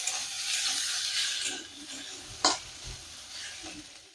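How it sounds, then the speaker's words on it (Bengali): Food frying in a pan gives a steady close sizzle with soft scraping stirs, and a sharp clatter of a utensil on the pan is heard partway through. "আমি 2-3 মিনিট একটু ভেজে নেব।"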